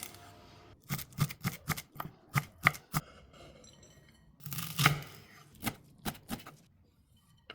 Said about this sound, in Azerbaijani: Öncədən yuyub suyunu süzdüyüm göyərtiləri doğrayıram